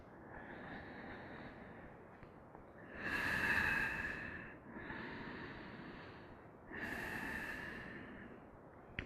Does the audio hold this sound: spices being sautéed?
no